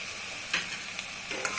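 Goat liver frying in a pan with salt just added: a soft, steady sizzle with a few brief scraping stirs, close and fairly quiet, no talking.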